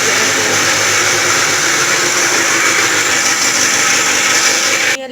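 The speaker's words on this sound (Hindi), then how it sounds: "ये लाल मिर्च पीस रही है," An electric mixer grinder pulverises red chillies in a kitchen, a loud continuous whirring roar that holds steady throughout and cuts off abruptly at the very end, with no talking over it.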